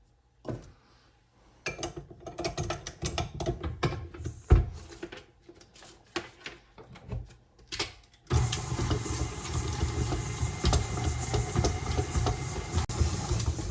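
An electric mixer creams brown sugar and butter, at first in uneven whirring bursts, then a steady loud whir for the last several seconds.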